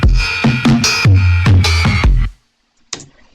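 Gritty, hard-hitting drum fill from a song's second chorus, a burst of loud punchy hits in quick succession that cuts off abruptly, followed by one faint short hit after a brief silence.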